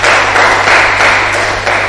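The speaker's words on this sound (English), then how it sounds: "Please a round of applause for you one more time." An audience at a research communication workshop claps for a speaker, a brief burst of dense, close applause that holds steady throughout.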